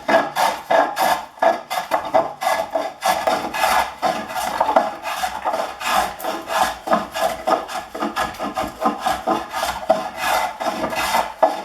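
Rapid, steady rasping strokes of a Stanley No. 40 scrub plane across a rough, chainsaw-cut chunk of elm, each pass a short, loud scrub repeating in a continuous rhythm.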